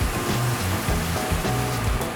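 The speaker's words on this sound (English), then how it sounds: "I'm going to deglaze that pan with a little bit of red wine." Red wine hits a hot pan for deglazing, giving a steady, loud hissing sizzle with a bubbling rush that holds on without pause.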